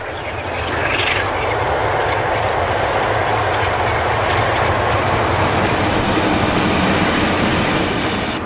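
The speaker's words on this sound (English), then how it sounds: "46046 runs into Peterborough with one of the regular fly ash workings in 1974." A Class 46 diesel locomotive, number 46046, hauls a fly ash train into Peterborough in 1974, a steady loud engine roar and rumble of wagons running continuously throughout.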